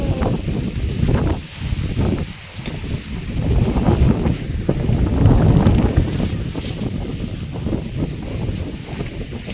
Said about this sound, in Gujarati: પવન એવો જોરથી આવ્યો ને તે બધું ઉડાડી દીધું